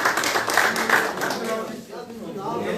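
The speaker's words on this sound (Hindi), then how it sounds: "तालियों से स्वागत करें" Crowd applause greeting new members at a political party joining event, steady scattered clapping over about three seconds beneath someone speaking into a microphone.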